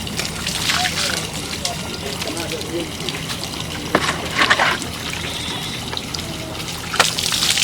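Water poured over a person's body while bathing, with sloshing splashes, the strongest near the middle and end, under people talking.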